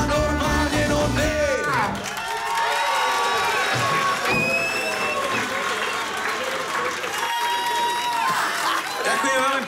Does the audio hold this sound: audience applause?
yes